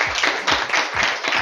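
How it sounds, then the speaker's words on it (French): Audience at a Toastmasters debate event applauds a team member being introduced, a steady burst of many hands clapping at close range with no voices over it. "on applaudit pour lui."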